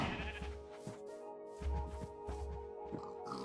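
Sheep in Minecraft bleating several times in a row, close and clear, with short repeated cries over a faint steady game tone.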